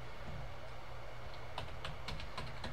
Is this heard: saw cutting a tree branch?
no